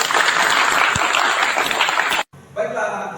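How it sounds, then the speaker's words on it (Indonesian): A classroom of automotive engineering students applauds together, a steady dense clapping that runs for about two seconds and then cuts off abruptly, followed by quieter room sound. "tepuk tangan dulu untuk kita semua"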